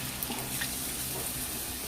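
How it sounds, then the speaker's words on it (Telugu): Water pours steadily into a pot of curry being cooked at home, a continuous broadband splashing rush with no gaps, fairly close and moderately loud. "వాటర్ యాడ్ చేస్తున్నాను"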